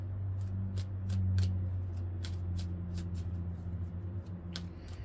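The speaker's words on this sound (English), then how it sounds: "they're telling me to put reversals in while I'm shuffling, so I'm going to do that really quick" Tarot cards being shuffled by hand, a run of soft, quick papery riffles and slaps spread through the stretch, close and fairly quiet over a low steady hum.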